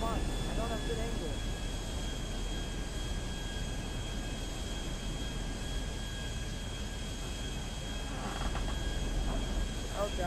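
Steady jet aircraft engine roar from the GTA 5 video game, a big fast jet in flight, a continuous broadband drone filling the whole stretch at an even, moderate level.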